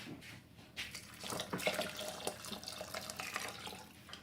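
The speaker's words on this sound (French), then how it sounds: "Et on va ajouter l'eau." Water is poured into a cooking pot already holding vegetable stock, a steady splashing rush that runs throughout at moderate volume, with no talking.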